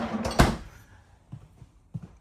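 A loud thunk of a residential refrigerator's freezer drawer shutting in a 2021 Cedar Creek Cottage 40CCK RV, followed by a few soft, quieter knocks and slides as it moves again.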